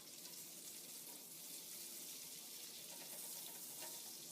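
Tomatoes blister in a hot pan with a steady, dense sizzle and crackle of frying, close up and continuous with no talking.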